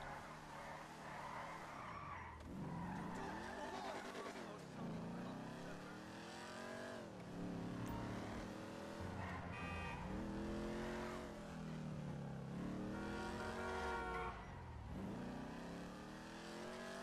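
A car in GTA 5 skids and drives, its engine revving up and down in repeated sweeping cycles with tire squeal, a continuous moderately loud stretch with no talk.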